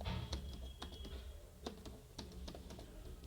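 Keystrokes tap on a computer keyboard in a quiet room, a few light irregular clicks over a low background hum.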